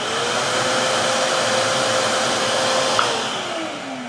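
A Vevor 2.5 gallon wet/dry shop vacuum runs steadily and fairly loud, its motor holding a constant whine with a slight pitch shift near the end and no talking over it.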